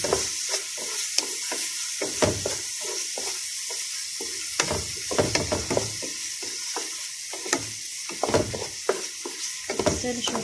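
Onions sizzle in hot oil in a pan, a steady bright hiss broken by frequent scraping strokes of a spoon stirring at an irregular, brisk pace, close up and without voices.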